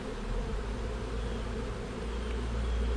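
Bees from an aggressive beehive buzz loudly and steadily, close up, a dense continuous drone with no talking over it, heard while a frame is handled at the hive.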